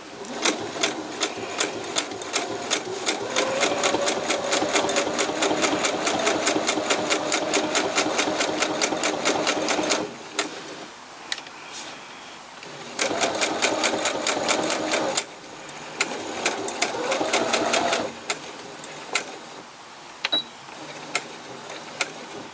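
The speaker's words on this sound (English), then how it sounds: "I'm just going to do a row of top stitching just to keep that nice crisp edge." A sewing machine runs a row of topstitching along a fabric edge, a loud, fast mechanical chatter in long continuous bursts that stop briefly and restart several times.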